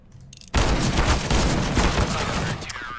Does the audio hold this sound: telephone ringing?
no